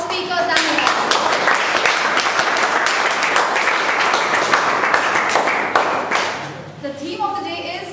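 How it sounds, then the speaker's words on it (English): Audience applause for the speakers at an event, a dense round of clapping from many hands that holds steady for several seconds, then thins out as a voice begins to speak near the end. "applause for all the speakers"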